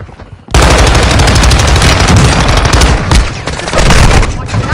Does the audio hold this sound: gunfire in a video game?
yes